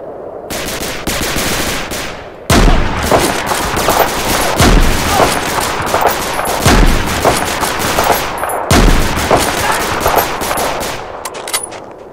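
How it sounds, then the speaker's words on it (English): Sustained automatic gunfire in the World War II shooter game Medal of Honor: Allied Assault, loud rapid bursts broken by short pauses and sharp single shots over about twelve seconds, with no talk. "When I open fire, give me sniper cover."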